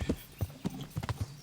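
Horse hooves clip-clop in a quick, uneven rhythm in Kingdom Come: Deliverance, several close, fairly soft hoofbeats over about a second and a half.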